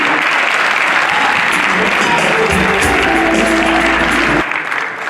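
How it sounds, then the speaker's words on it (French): Audience applause rings out for an honoree at a festival, a loud, dense burst of clapping from a crowd that holds steady for several seconds before easing off at the end. "Je vous prie de l'applaudir"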